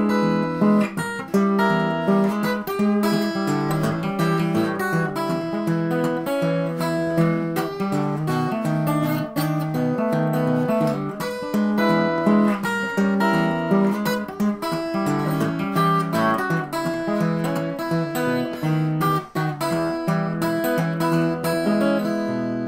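Acoustic blues guitar fingerpicked with only the thumb and one finger: a steady syncopated run of plucked bass and treble notes, close and clear, with no talking throughout.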